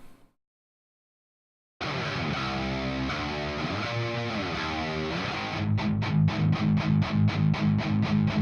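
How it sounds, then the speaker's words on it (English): Raw, unprocessed distorted electric guitars in a rock mix, holding dense sustained chords before breaking into a pulsing, rhythmic chug, loud and full, with no voices over them. "So here's the sound of those guitars before any processing."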